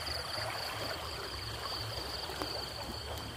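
A river flows steadily at night as someone stands mid-channel, giving a continuous broadband rush of water with no speech and no breaks.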